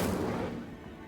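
The Incendio fire spell is cast in the Hogwarts Legacy video game, giving a short, loud, full-bodied whoosh-burst that starts at full strength and fades slowly over about a second.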